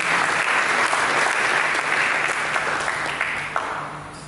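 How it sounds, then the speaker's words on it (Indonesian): A church congregation at a worship service breaks into sustained applause, dense steady clapping that gradually thins and fades toward the end. "Mari kita berikan tepuk tangan."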